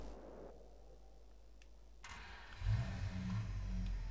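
A truck engine in Farming Simulator 22 turns over and catches after a quiet stretch, settling into a steady low idle rumble that builds slightly louder toward the end.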